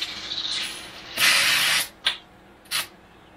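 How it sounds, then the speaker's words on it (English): Liquid ballast fluid sprays out of a tractor tire valve in a long hissing burst, followed by two shorter sharp spurts, close up with no talking. "I've got fluid coming out of it very quickly"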